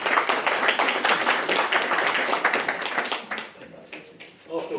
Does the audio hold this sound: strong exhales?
no